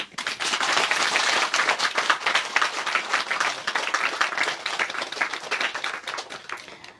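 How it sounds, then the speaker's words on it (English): Sustained audience applause from a crowd at a spiritual talk, dense and steady clapping that fills the space for several seconds before tapering off near the end. "We applaud them, huh?"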